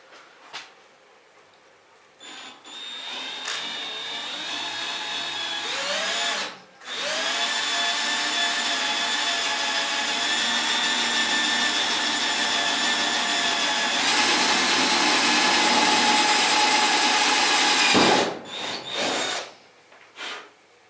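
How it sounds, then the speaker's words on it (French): A power drill bores holes for a ram's-head hood ornament on a 1988 Dodge Ram D150. Its loud, steady whine runs for long stretches, with a short pause midway and brief stops and restarts near the end. "Donc voilà, on a percé les 3 trous."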